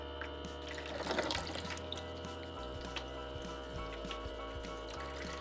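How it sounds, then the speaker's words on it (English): Toy fruit being scrubbed and washed under a running kitchen tap, with a steady stream of water splashing and trickling continuously, close and moderately loud throughout, no talking. "I'll use a scrub and wash each item one more time."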